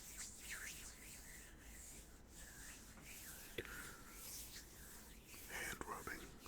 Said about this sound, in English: Alright, a little bit of hand rubbing sounds.